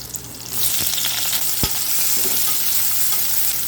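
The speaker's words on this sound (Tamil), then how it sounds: "வெங்காயம் வந்து நல்லா வதங்கணும்." Thinly sliced onion sizzling steadily in a hot pan while being sautéed for biryani, a constant crackling fry with a couple of faint clinks of a utensil.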